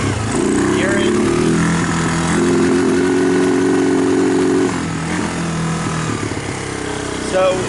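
A Kawasaki Lakota ATV engine fitted with a replacement CDI runs loudly up close, its revving uneven and breaking up as the RPM rises, with a voice talking over the noise.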